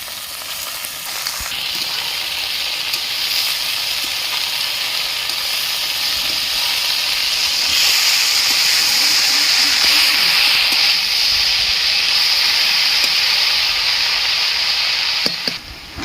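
Washed water spinach hitting hot oil in a pan where fish were fried, giving a loud, steady sizzle and hiss that swells after being added and holds throughout, with no talking.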